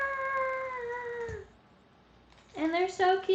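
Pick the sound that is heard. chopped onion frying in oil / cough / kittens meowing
kittens meowing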